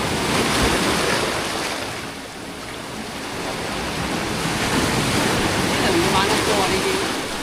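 River waves and surf crashing around a raft, a broad, continuous roar of churning water with gusty wind, loud and close throughout, with voices calling faintly underneath.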